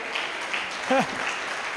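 A church congregation applauds in a large hall, a dense, even wash of many hands clapping at once. A brief voice rises over it partway through.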